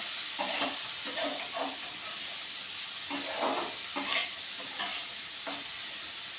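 Chopped ginger sizzles in hot oil in a pan while a spoon stirs it, steady frying hiss with scraping strokes coming in bursts, close and clear with no talking.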